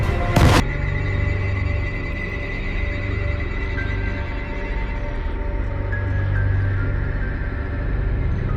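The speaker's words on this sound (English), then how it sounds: "A surface-to-air missile streaks towards the Warthog" A surface-to-air missile streaks toward an A-10 Warthog, opening with a sharp loud burst followed by a sustained, roaring rumble with high whining tones and a steady drone, with no speech.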